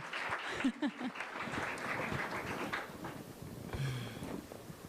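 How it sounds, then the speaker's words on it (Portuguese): Audience applause at an education event, soft scattered clapping with murmuring voices and a few brief tonal sounds, fairly faint and diffuse. "Então eu quero uma salva de palmas"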